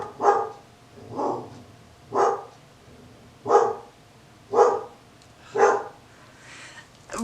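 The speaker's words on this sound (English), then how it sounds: "There's my dog barking at a delivery truck." A dog barks repeatedly at a passing delivery truck, about seven evenly spaced barks heard from a moderate distance indoors, each a short muffled woof with quiet gaps between.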